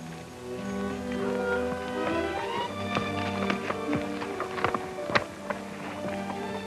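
Hooves of a horse carrying two riders clip-clop in a 1937 western, a loose run of taps heard faintly beneath orchestral music.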